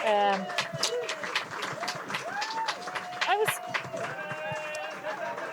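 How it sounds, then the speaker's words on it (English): Festival audience applauding comedian Andrew Maxwell, who wears lederhosen, at a live comedy show at Altitude Festival; steady crowd clapping with scattered whoops and cheers runs throughout over a voice talking. "That round of applause is for Andrew Maxwell in his lederhosen."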